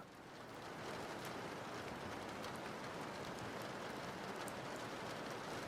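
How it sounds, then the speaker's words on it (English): Steady rain in the video game Trails in the Sky the 3rd, a constant dense hiss that fades in over the first second and then holds evenly, with no talk. "Here comes the rain again."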